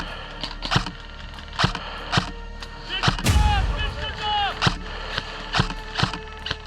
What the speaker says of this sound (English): We're taking shots From that tree line!